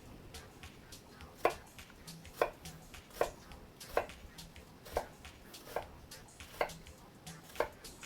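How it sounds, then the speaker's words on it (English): A knife chops onion on a cutting board in a home kitchen, with about ten sharp, distinct cuts spaced roughly every second, fairly close and alone. "All over the place cutting those onions"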